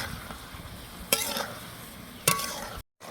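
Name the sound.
liver being stir-fried in thick spice masala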